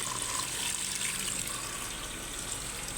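Broth poured into a pot of pork-bone sinigang, a steady, even rush of liquid that holds at one level for about three seconds, close and fairly loud with no voices.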